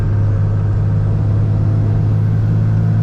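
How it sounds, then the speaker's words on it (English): Diesel truck fitted with a new Mishimoto intercooler and 125hp DDP injectors under hard acceleration, a loud steady low rumble of engine and turbo boost filling the whole stretch without a break. "Boost spools insanely fast."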